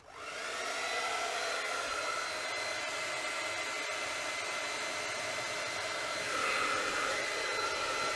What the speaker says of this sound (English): 82 watts to run a hairdryer on low.